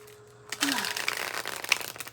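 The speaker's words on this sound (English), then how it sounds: "Oh, it's pretty flexible. It shuffles pretty easily." A brand new tarot deck being shuffled by hand: after a brief quiet start, a dense burst of papery card riffling and flicking runs continuously up close, with a soft voice briefly underneath.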